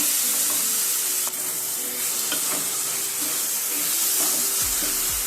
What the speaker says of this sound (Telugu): దీంట్లో టమాటాలు వేసి ఇంకొద్దిసేపు ఫ్రై కానిద్దాం.